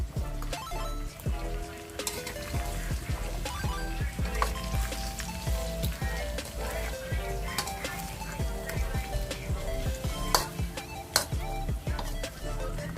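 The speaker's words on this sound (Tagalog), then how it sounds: "Then, halu-haluin lang ulit." Pork adobo with banana and potatoes being stirred in a pot, with soft scraping and clinking of the utensil against the pan over a steady bed of background music, no talking.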